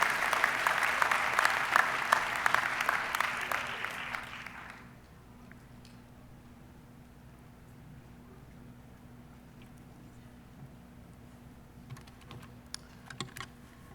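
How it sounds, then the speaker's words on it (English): A big round of applause for Distinguished Dissertation Award winners at a doctoral commencement ceremony, loud dense clapping for about four seconds that then dies away into quiet room tone with a few scattered claps later. "let's give one big round of applause to all our Distinguished Dissertation Award winners"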